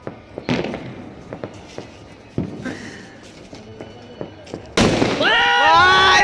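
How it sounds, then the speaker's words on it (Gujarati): Sutli firecrackers bursting outdoors during Makar Sankranti celebrations: a string of scattered sharp pops and bangs, some near and loud, others distant, then a sustained burst of crackling with whistling tones, while people talk nearby. "આ જો બધા સુતડી બહુ ફોડે છે હાથમાં"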